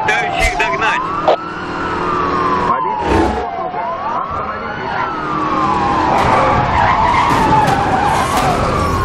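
Racing cars in Need for Speed: Hot Pursuit, including an Aston Martin One-77, tear along at high speed, with repeated sweeping tire skids and squeals over steady engine roar, and siren-like wails rising and falling throughout.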